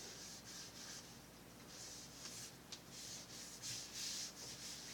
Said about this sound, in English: that's all you do is you rub it in